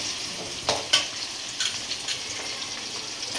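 Sliced onions fry in oil in a pan for a pomfret fish curry, giving a soft, steady sizzle up close, broken by a few brief scraping stirs.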